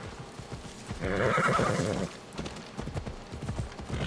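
A horse whinnies loudly for about a second amid steady clip-clopping hooves in Assassin's Creed Odyssey, with a busy game background throughout.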